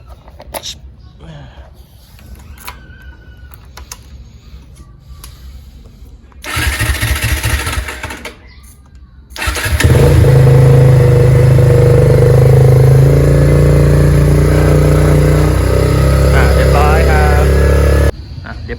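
A Kawasaki W175 motorcycle with a freshly replaced battery cranks briefly, then catches and settles into a loud, steady idle close by, running for several seconds before cutting off. Talk comes before it starts.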